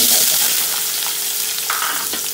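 Sliced onions sautéing in a pan for fenugreek kuzhambu, a close, steady hissing sizzle with faint stirring scrapes throughout.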